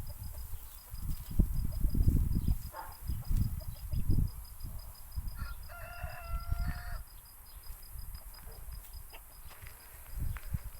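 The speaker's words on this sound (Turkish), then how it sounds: "Tokat tavuğu. Göstereyim yavaş yavaş. Öttürsem bir daha." A Tokat breed rooster crows once in the middle distance in rural Thrace on a hot evening, a drawn-out call rising above low rumbling wind noise and faint background sounds.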